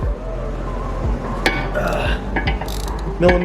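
A ratchet with a 16mm socket works loose a sway bar end link on a BMW 335i, giving a few close metallic clicks and clanks over low background hum, with someone talking at moments.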